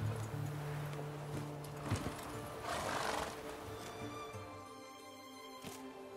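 Roach, Geralt's horse in The Witcher 3: Wild Hunt, whinnying and snorting with clip-clopping hooves close by, set against a steady game ambience.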